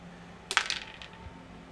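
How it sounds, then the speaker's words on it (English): Dice set down on a table during a tabletop role-playing game: a brief, quiet cluster of sharp clicking taps lasting about half a second, with no one talking. "Okay, dice down, sorry."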